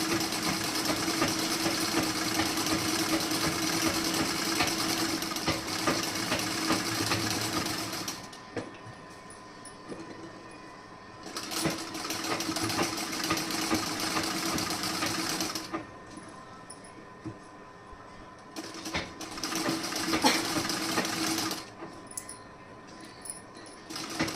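A sewing machine stitches cloth in a loud, steady whir, running in long bursts that stop briefly twice before starting again, with no talk.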